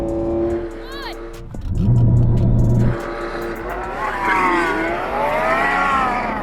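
A Lamborghini Revuelto and a Ferrari SF90 launch side by side in a drag race, engines revving hard and roaring up through the gears, loud and close, with people talking over it.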